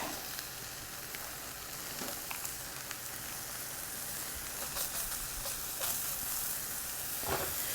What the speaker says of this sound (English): for now we're just going to go ahead and brown up this sausage